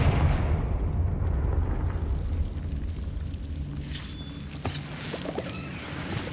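A Confringo fire spell in Hogwarts Legacy lands with a heavy, rumbling fiery blast that fades slowly, followed by a few faint sparkling effects near the end.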